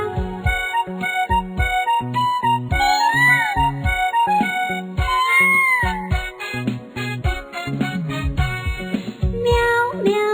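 Children's nursery rhyme about a cat, with a sung, imitated meow melody repeated over a bouncy, loud musical backing with a steady beat throughout; a voice mimics the cat rather than a real animal.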